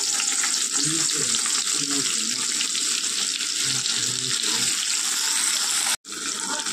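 Onions hiss and sizzle in hot oil left from frying potatoes, making a loud, steady frying wash that breaks off briefly near the end.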